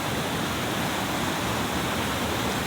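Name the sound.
stream flowing at a camp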